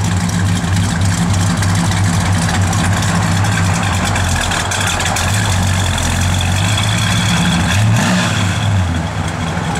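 A 440 V8 engine in a 1969 Dodge Coronet R/T with a mild cam idles loudly and steadily with a deep rumble, rising briefly in a rev near the end.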